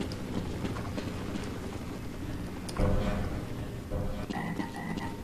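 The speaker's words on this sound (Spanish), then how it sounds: "Escucho un sapo." A toad croaking in the Half-Life: Azure Sheep game, repeated low croaks under a dense ambient game soundscape with a sharper burst midway.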